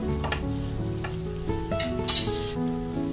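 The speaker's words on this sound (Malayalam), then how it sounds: "ഈ ചിക്കനും ഈ മസാലയ്ക്ക് നന്നായിട്ട് മിക്സ് ആയിട്ട് വരണം. അതുവരെ ശരിക്കൊന്ന് ഇളക്കി യോജിപ്പിച്ച് കൊടുക്കാം." Chicken stirred with masala in a hot pan sizzles steadily for a few seconds, with scraping stir strokes and background music underneath.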